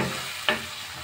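Onion and tomato are stirred and sautéed in a pan for Bombay chutney: a soft, steady sizzle with one brief, sharp utensil clink partway through.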